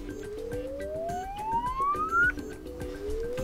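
Rising sweep tones from the receiver test on a Samsung Galaxy A52s phone, two long climbing tones played one after another, fairly loud and close, with no talking.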